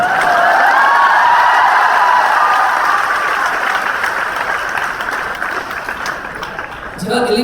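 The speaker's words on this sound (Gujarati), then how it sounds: "એમને પણ જોરદાર તાળીઓથી આપણે વધાવીએ છીએ" Sustained, loud applause from a live audience welcoming actor Tanmay Vekariya, known for playing Bagha, at a BAPS gathering in Rajkot, steady throughout and fading slightly near the end.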